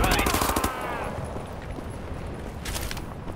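Rapid automatic gunfire from a weapon in Wolfenstein: The New Order rattles loudly in a dense burst for about a second, followed by lingering echoing rumble and a second short burst of shots near the end.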